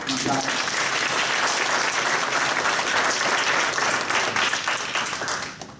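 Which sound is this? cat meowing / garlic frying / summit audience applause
summit audience applause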